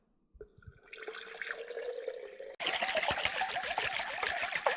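Lukewarm water poured into a small jar, a gentle trickle that swells into a fuller, louder splashing stream partway through, heard alone and close.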